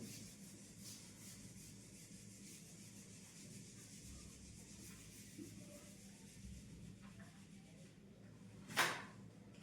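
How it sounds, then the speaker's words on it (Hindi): Board duster or eraser rubbing chalk or marker writing off a classroom board during a geometry lesson, a steady soft scrubbing that runs throughout at low level, with one brief sharper knock near the end. "अब उसके बाद जरा ये पार्ट रब कर लेते हैं।"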